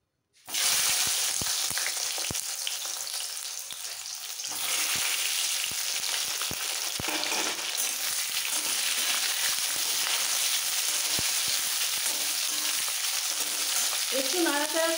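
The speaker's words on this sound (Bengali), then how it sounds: "মৌরিটা ভাজা হয়ে গেলে এর মধ্যে কুলগুলো রেডি করা কুলগুলো ছেড়ে দেব।" Jujube berries go into hot oil with fennel seeds in a pan for a sour-spicy chutney, setting off a loud, steady sizzle that holds close up for the whole stretch, with occasional stirring clicks and no talking.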